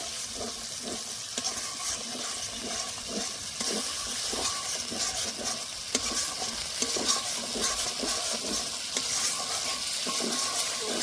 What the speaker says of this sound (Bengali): ঠিক এই সময় দিয়ে দিতে হবে সরষে পোস্ত বাটাটা। আবার একটু কষে নেব।